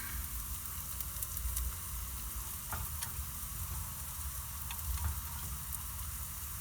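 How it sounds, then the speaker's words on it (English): Mashed potatoes are stirred into a hot taco pie filling in a pan with the burner off, outdoors in a parking lot. A steady sizzle runs throughout, with a few soft scraping clicks from the spoon and no talking. "put in our mashed potatoes, and we're going to go ahead and just stir those in."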